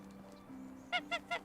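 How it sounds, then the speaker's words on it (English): Geese in the video game Medieval Dynasty give three evenly spaced, clear honks near the end, following a quiet stretch of low ambient hum. "So these are not ducks, these are goose or geese, whatever."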